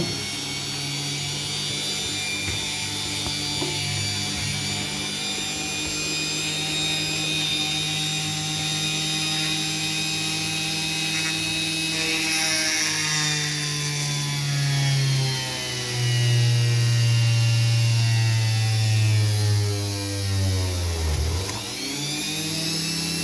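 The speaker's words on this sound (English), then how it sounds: "Okay, so I'm gonna start my Dremel here. So let's create those holes." A Dremel rotary tool drills holes in jewelry, giving a sustained high motor whine whose pitch dips and rises as the bit bites and eases, with a sharp drop near the end.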